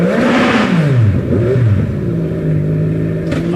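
A Pilbeam MP88 hillclimb race car with a V8 engine accelerates hard at a hillclimb, its engine note rising and falling through gear changes, loud and close, with no talk.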